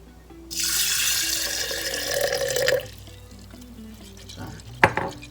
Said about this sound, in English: you want to just add some water to it.